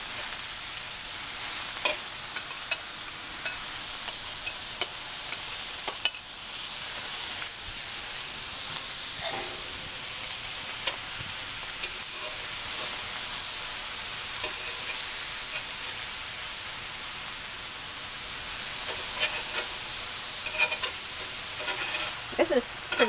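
Thinly sliced cheesesteak meat sizzles loudly and steadily in a hot pan, a continuous bright frying hiss with occasional stirring scrapes, close up and without talk.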